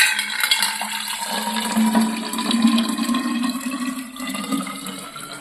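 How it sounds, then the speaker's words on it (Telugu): Water pours into a bottle in a steady gushing stream with a low rising fill tone, loud and close, continuing for several seconds without talk. "బాటిలోకి నీళ్ళు అయితే పోస్తాం"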